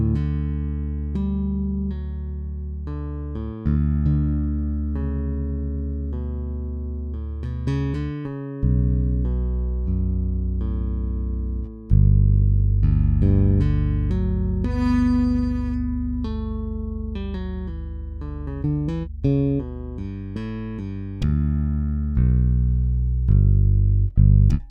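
Ample Bass P Lite virtual bass instrument plays a melodic line of deep sustained notes with some higher slides and plucks, clear and continuous, with no talking.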